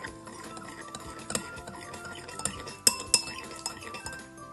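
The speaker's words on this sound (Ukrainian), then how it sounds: "якщо взяти ложку і поколотати його" A spoon scrapes and clinks against the inside of a container while stirring a liquid mixture containing dish detergent, in quick irregular strokes, with a few sharper taps standing out.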